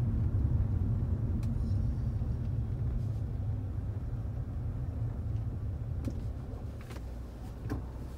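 Car interior at night while driving through West Little River, Florida: a steady low road rumble and engine drone continue throughout, with a few faint clicks and taps near the end and no talking.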